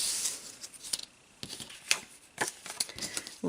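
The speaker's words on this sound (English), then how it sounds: "Punch them out." A Stampin' Up coordinating paper punch cuts stamped images out of paper, giving a handful of sharp, close crunching snaps at irregular intervals with quiet gaps between.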